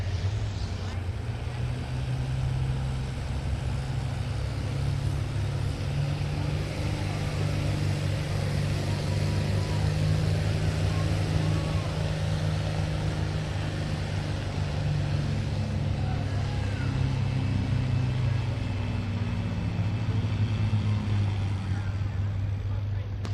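A John Deere 4010 tractor at a tractor pull runs its engine in a steady, loud, deep roar that holds for the whole stretch, with an announcer's voice faint beneath it.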